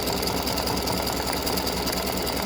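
An embroidery machine sews a red and pink free-standing lace double heart in satin stitch, giving a steady, close, continuous mechanical whir and buzz that runs throughout with no pauses and no talking.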